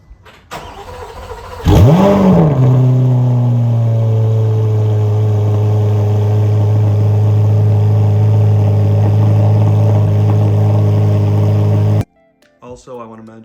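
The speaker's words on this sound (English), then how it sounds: "I think we should kick this video off with a cold start" A 2024 Chevrolet Corvette Z06 cold-starts with a sharp starter crank and loud flare of revs, then settles into a steady, high, loud idle that runs for about ten seconds before cutting off abruptly.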